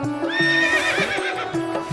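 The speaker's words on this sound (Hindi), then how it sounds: "घोड़े को खोलकर बाहर लाए।" A horse whinnies in a long, wavering neigh that rises and falls for nearly two seconds, loud and close, with faint clip-clop of hooves beneath, as the animal is led out of its stable.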